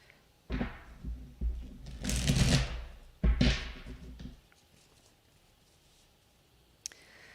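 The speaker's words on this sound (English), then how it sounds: "we're going to shuffle" Two bursts of tarot card shuffling, a brief riffle then a longer rustling flurry, close and fairly loud, followed by quiet and a single faint click.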